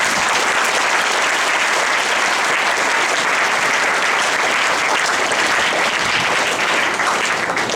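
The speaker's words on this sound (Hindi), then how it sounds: "और एक बार इन सभी पार्टिसिपेंट्स जो स्टूडेंट्स थे उनके लिए जोरदार तालियां" A school audience gives loud, dense, continuous applause for student participants at an Independence Day event, with no pause throughout.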